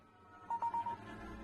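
A phone notification chime sounds in a remote cabin: four quick, soft electronic tones at a steady pitch, faint under a low background rumble.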